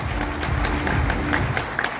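An audience claps in steady, dense applause at an RCM Ruby Pin achievers' celebration, moderately loud and continuous for a couple of seconds.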